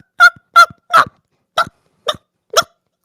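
A human voice imitates a dog's chirping noise with six short, sharp, high-pitched yips at uneven intervals, loud and close with silence between them.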